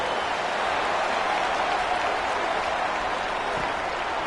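A stadium crowd cheers at a night football game after a field goal, a broad steady roar of applause and voices that stays loud and even, with no distinct speech.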